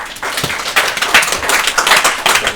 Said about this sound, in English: Massive round of applause to Alex, please.